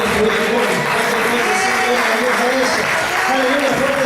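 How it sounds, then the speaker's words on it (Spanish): Loud clapping from a church congregation continues under a preacher's raised speaking voice, dense and steady throughout. "fuerte ese aplauso"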